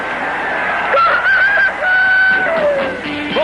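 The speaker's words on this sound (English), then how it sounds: "Brewster, the Goebel rooster." A rooster crows loudly in a Goebel beer commercial, with a long drawn-out cock-a-doodle-doo followed by a falling squawk, close and dominant with no talk.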